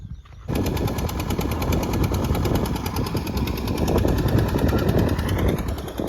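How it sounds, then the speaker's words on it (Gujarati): A tractor runs on a farm where mango saplings are being planted, its loud, steady diesel chugging starting abruptly after a brief quiet moment and continuing close by with a rough, pulsing rhythm. "અત્યારે આપણે ટ્રેક્ટર હાલે છે"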